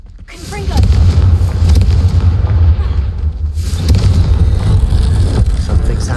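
A Confringo fire spell bursts in Hogwarts Legacy, a loud, booming blast that rolls into a sustained rumbling roar lasting several seconds with no voices.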